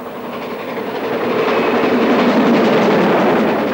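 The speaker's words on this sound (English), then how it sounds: "This is the last run of the famous Pendennis Castle, climbing through the outer London suburbs on the old Great Western main line to Birmingham." GWR steam locomotive Pendennis Castle hauling a train up the Great Western main line through outer London suburbs: a loud, continuous roar and rumble of wheels and train, building slightly as it passes close by.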